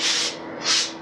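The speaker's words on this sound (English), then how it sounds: "Doing some light sanding." Light hand sanding on a Honda motorcycle fuel tank being prepared for spray painting: two slow, smooth abrasive strokes, close and steady, with no voices.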